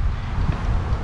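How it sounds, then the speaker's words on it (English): Steady wind rumbles and buffets against the microphone at an RV park, a dense low roar with no voices. "It has been windy lately"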